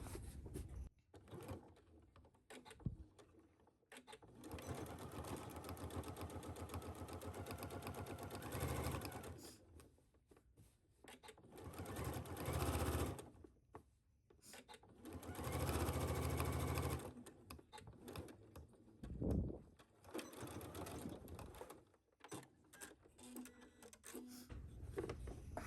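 A sewing machine stitching a line along the edge of a cargo skirt, running in several long bursts of rapid, steady mechanical whirring separated by brief pauses, close and clear with no talk.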